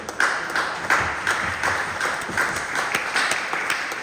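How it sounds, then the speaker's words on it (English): A small outdoor crowd applauds an English family in their front yard, a steady patter of moderate clapping heard from a short distance. "round of applause for the English family"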